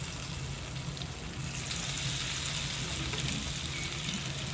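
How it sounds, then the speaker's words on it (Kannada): Fish fries in hot oil in a pan, giving a quiet, steady sizzle and crackle throughout, with no voices. "ಒಂದೊಂದು ಮೀನು ಹಾಕಿ ಫ್ರೈ ಮಾಡೋಣ."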